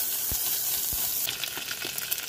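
Butter sizzling and frying in a hot pan while cooking poached cod with pineapple sauce, a steady loud hiss with a couple of low knocks early and crackling pops toward the end, no talk.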